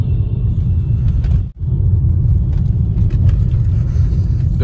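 A car drives at moderate speed over a rough, broken road, its loud, steady rumble of tyres and engine continuous throughout with one brief dip, no talking.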